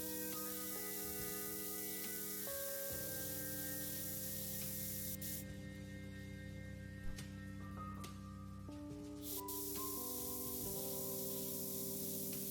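An airbrush sprays paint onto a scale model with a scaly underbelly: a steady, close hiss that runs nearly the whole time, with a few tonal hums and brief pauses under it.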